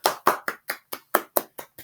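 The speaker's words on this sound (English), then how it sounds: "So let me see your round of applause." Nine sharp, evenly spaced claps ring out in a steady rhythm, close and crisp, each one quickly decaying into silence, as children clap a round of applause after a story.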